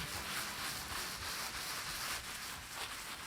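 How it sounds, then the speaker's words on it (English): Hands glide over bubble wrap laid on wool for wet felting, making a soft, continuous rubbing and crinkling hiss. The sound stays quiet and steady throughout. "Cover the wool with bubble wrap and gently glide your hands over it."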